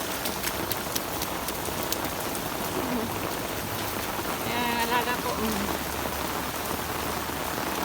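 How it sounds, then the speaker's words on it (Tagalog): Heavy rain pours down steadily in a continuous dense hiss, with a person speaking briefly over it partway through. "Lakas din ng ulan."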